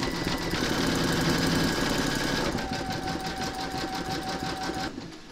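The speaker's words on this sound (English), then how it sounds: "Now I'm going to pop your hoop into your machine and stitch round number 10." An embroidery machine stitches an appliqué scarecrow design in the hoop with a fast, steady mechanical hum and rapid needle chatter. It runs continuously close up, then eases off at the end.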